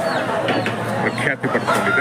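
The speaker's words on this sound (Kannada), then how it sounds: "ಇಲ್ಲಿ ಜಾಸ್ತಿ ನಾಟಿ ಕೋಳಿ ಸಿಗುತ್ತೆ" Country chickens cluck at the busy, noisy Akkirampura poultry market near Tumkur, Karnataka, their calls mixed with crowd bustle while someone talks over them.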